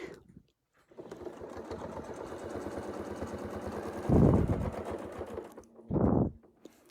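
A sewing machine runs steadily as it stitches a continuous oval motif, a fast even mechanical whir after a brief start, with two louder thumping bursts near the end; no one speaks.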